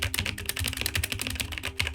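Rapid typing on a computer keyboard as a decryption key is entered, a close, brisk run of sharp individual key clicks in an uneven rhythm lasting about two seconds, with no voices.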